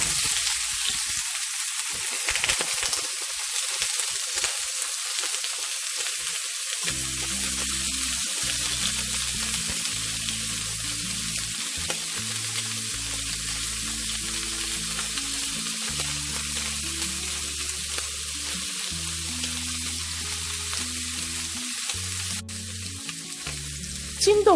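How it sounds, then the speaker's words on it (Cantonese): Pork ribs pan-frying for a pork rib and tomato soup give a steady, close sizzle that runs throughout, with a low background hum underneath and no talking. "先煎一煎嗰啲排骨"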